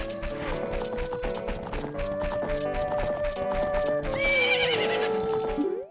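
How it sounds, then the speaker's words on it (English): Epona the horse from the Ocarina of Time video game neighs and whinnies at Lon Lon Ranch, over dense melodic game music with a bright rising whinny near the end and clip-clop hooves. "she'll introduce you to her horse, Epona"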